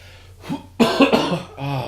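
A man with bronchitis coughs several times in a row, close up and loud. There is a short pause, then a harsher, louder cough follows, with a voiced rasp at the end.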